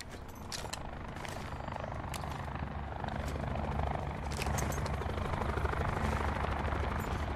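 A helicopter in the video game Call of Duty Blackout thrums steadily in the distance, its rotor wash growing slightly louder over several seconds.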